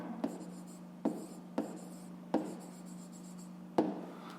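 Pen writing on paper while working a fifth-grade maths exercise, with short scratchy strokes separated by pauses over a steady low hum, close and quiet.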